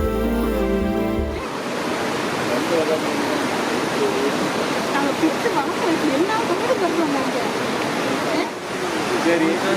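Heavy roaring water pours at a waterfall as dense, unbroken rushing noise, loud and close, with a musical sting at the start and a voice talking over the roar.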